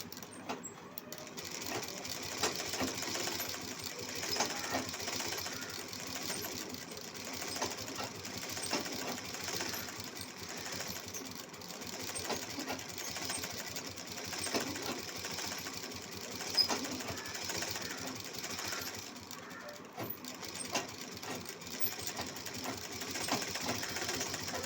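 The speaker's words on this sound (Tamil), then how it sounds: "இந்த ரவுண்டு ஷேப்பை சுற்றிலும் தையல் போட்டுக்கோங்க" A sewing machine stitches around the rounded neck shape of a V-neck blouse, a steady fast mechanical whirring and clicking that runs on close and faint with small pauses, no talk.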